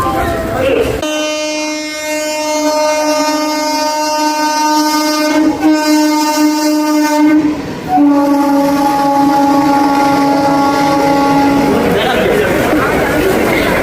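A train at Belgharia station sounds long, loud, sustained horn blasts over a rumbling background. There is a brief pause midway, then another drawn-out blast, and busy platform noise follows at the end.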